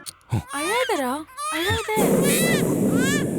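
An infant wails loudly in a scene from the Tamil film Jana Nayagan, with high, rising and falling cries in several bursts, then a broad noisy wash fills the last part.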